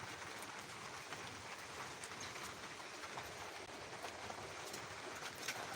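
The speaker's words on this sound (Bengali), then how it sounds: "বৃষ্টির কোনো বিরাম নাই কোনো বন্ধ নাই" Continuous heavy rain falling without letup, a steady broadband wash of drops at constant loudness, with no talking.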